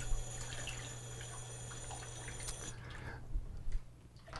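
Water trickles into a small chlorine test kit vial beside a kitchen sink, a faint steady splashing over constant background hum, fading out near the end.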